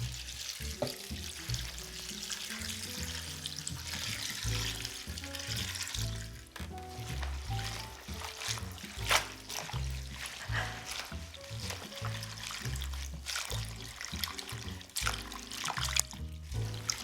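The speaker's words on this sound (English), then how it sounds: "I'm going to dump my kale in a bowl or a pot because I don't have a bowl big enough, and just rinse it off." Kale rinsed in a pot under a running kitchen tap, a steady splashing and trickling stream of water heard throughout beneath loud background music.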